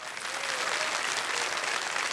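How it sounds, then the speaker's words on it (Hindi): Studio audience applause on the KBC quiz show set, a steady, even wash of clapping sustained throughout at moderate distance. "आज ताली पड़ रही है उसके ऊपर।"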